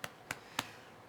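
Three soft, quick slapping thumps from a dog's rear hitting a surface, evenly spaced and close, in a quiet room.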